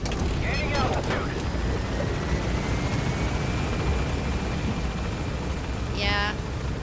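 A helicopter flies in the Metal Gear Solid V: The Phantom Pain video game, a steady loud rotor drone with brief voice fragments and a short chirpy burst near the end.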